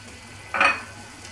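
A spoon stirs kefta and a herb mixture with parsley frying in a pan: one short scraping sizzle of under half a second, rising out of near silence and quickly fading.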